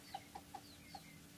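Rooster calling to a hen, giving four short soft clucks in an irregular rhythm, close by and fairly quiet over faint background noise.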